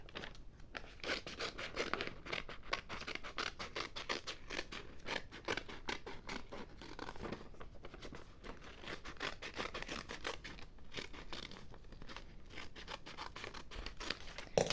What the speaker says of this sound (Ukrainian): Зараз нам потрібно вирізати ось цю сніжинку.